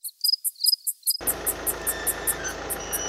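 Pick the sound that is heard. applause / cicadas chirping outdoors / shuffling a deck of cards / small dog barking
cicadas chirping outdoors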